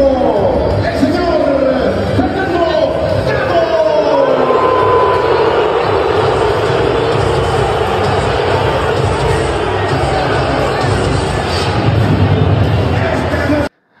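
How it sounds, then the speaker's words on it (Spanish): A packed stadium crowd at a Chivas Guadalajara football match boos and whistles before kickoff, a loud sustained wall of jeering with shrill whistles rising above it, ending abruptly. "ahí tenemos el abucheo a Fernando Gago antes de que arrancara el compromiso"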